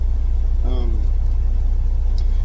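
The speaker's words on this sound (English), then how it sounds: "I'm always recording in a truck because I'm a local truck driver." Steady low engine rumble fills the cab of a local delivery truck, loud and constant throughout, with a brief voiced sound rising over it.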